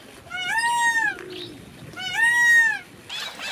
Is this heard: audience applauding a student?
no